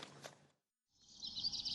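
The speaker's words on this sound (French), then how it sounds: "À l'heure où les oiseaux commencent à piailler devant des volets encore fermés" Birds chirping at dawn outside closed shutters, faint thin tweets heard at a distance, a short burst at the start and a denser twittering after a brief silence.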